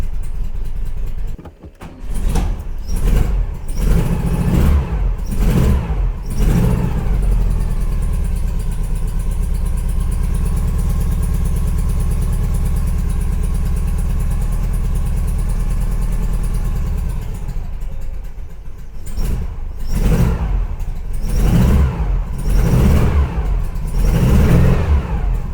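A cold car engine fed by Weber IDF carburettors is held on the throttle, revving in bursts, then settling into a steady, loud, slightly raised idle before being blipped sharply again.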